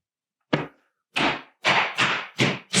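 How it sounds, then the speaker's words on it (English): Rubber mallet knocking a panel into a utility cabinet during ready-to-assemble cabinet assembly, six close, dull thuds in a quickening sequence, each with a short decay, no talk. "You'll hear when that panel is on, it actually bottoms out. It makes a thudding noise."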